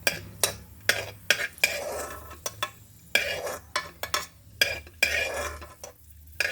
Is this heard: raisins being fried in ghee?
yes